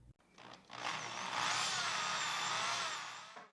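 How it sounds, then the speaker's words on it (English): A power drill with a 4 mm bit bores a hole through the side of a wooden piece, a steady close whine lasting about three seconds before cutting off. "With this 4 millimeter bit, I will drill another hole in one of the sides on these 3 parts."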